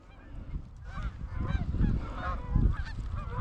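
Big flocks of geese fly high overhead during a goose hunt in a blizzard, honking in a dense, overlapping chorus that swells and stays fairly faint, mixed with wind.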